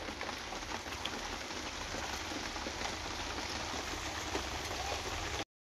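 Steady rain falls throughout at a rural Odia home with an earthen clay stove, a dense even hiss of drops close by that cuts off abruptly near the end.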